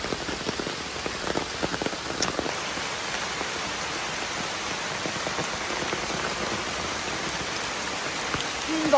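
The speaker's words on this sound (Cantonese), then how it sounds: "哦，落好大雨，上緊山。" Heavy rain pours down on a hill trip at Bukit Larut (Maxwell Hill) in Malaysia, a dense, steady hiss of drops pattering on surfaces all around, with scattered louder splats and no clear talk.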